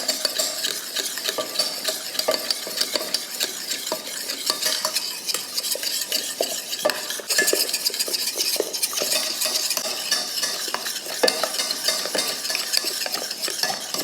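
A whisk beats eggs, added one at a time, into a mixture cooled to room temperature, making a steady, busy scraping and clicking against the bowl that carries on without pause and with no talking.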